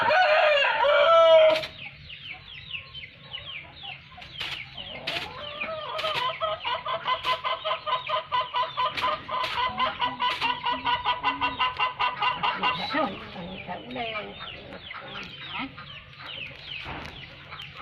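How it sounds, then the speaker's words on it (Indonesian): A rooster crows loudly up close while several chickens cluck in bursts around it, the rapid clucking running in a rhythmic stretch through the middle, with a voice speaking briefly in the background. "Ayam."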